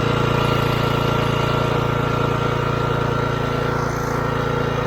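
Gas pressure washer engine, already warm, running steadily and cranked up for washing a house, a loud continuous droning hum with a strong low rumble, close by and with no talk over it.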